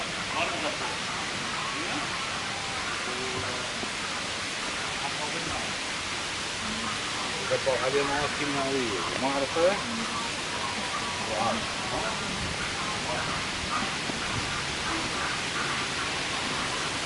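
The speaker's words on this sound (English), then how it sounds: "The sound of water is very therapeutic and very soothing." Water flows steadily through parkland, a continuous broadband rush, with a murmur of voices in the middle stretch.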